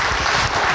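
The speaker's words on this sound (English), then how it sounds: "applause." An audience at a rabbis' panel discussion on Jewish pluralism claps in a dense, even wash of applause that fills the whole short moment.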